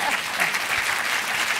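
A conference audience applauds keynote speaker Julie, producing dense, continuous clapping from a large crowd that holds steady and fairly loud throughout.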